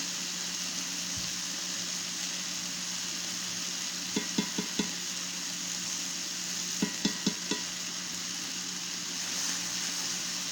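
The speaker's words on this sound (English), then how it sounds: "as the butter melts down, I'm going to give it a little bit of time" Whole butter, about two or three tablespoons, melts and sizzles in a pan with steak, a steady soft frying hiss with a few brief clusters of stirring or scraping clicks partway through.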